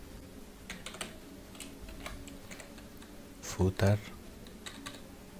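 Code is typed on a computer keyboard in quick, uneven bursts of clicking keys, with a couple of louder thumps, while a person speaks briefly over the tapping.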